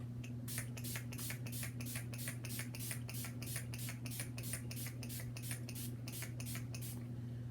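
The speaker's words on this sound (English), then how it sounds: "I'm really using a lot of spray today" Rapid, evenly spaced bursts of Urban Decay All Nighter setting spray hiss in a steady rhythm over a constant low electrical hum, close and fairly loud throughout.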